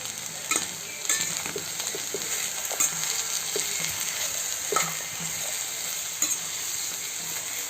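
Ridge gourd and garlic frying in a pan, a bright, steady sizzle with occasional spoon knocks and stirs, close and even in level.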